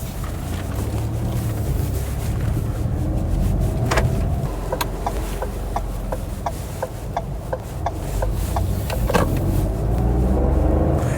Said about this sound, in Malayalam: അപ്പോൾ നമുക്കിനി റോഡിൽ ഓടിയിട്ട് എങ്ങനെയുണ്ട് 3 സിലിണ്ടർ എന്നുള്ളതൊന്ന് നോക്കാം.